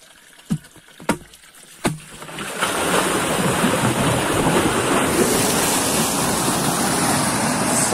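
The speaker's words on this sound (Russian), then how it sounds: "Мощный поток." A powerful stream of water rushes through a cleared spring-fed brook in Udmurtia, surging in after a few sharp knocks and then roaring as a steady, loud, close broadband flow.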